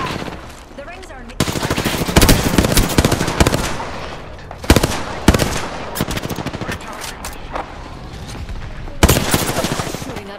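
Rapid automatic gunfire in Apex Legends rattles in several bursts of close, loud shots with brief gaps between them, with faint talk in the mix.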